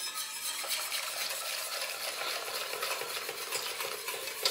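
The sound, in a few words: stirring pastry cream in a saucepan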